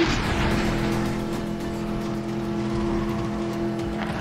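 Car engine droning steadily at speed on a highway in the shooter game Medal of Honor Warfighter, a close, continuous hum with little change across the short stretch.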